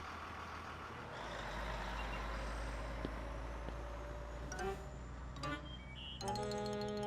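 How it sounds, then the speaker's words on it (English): A big yellow school bus in a cartoon idles and rumbles with a steady low drone, joined near the end by brief beeping and a burst of chiming tones. "the big yellow school bus that drove down his street"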